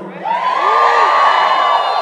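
A convention panel audience in Hawaii cheers and whoops loudly, a rising swell of shouts and high whoops sustained for about two seconds.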